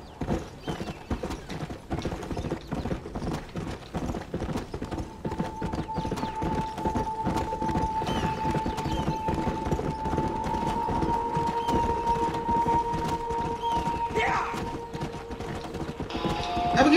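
A Mustang stallion's hooves clip-clop at a steady trot in the video game Red Dead Redemption, the rhythmic hoofbeats continuous and close throughout, with a faint tonal whine rising in the background later on.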